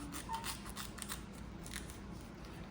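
Scissors snip through a magnetic REUZIP extension mounting strip in a few quiet, crisp cuts over a steady background hiss.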